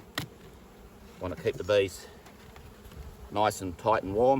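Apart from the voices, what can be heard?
honey bees buzzing at opened hive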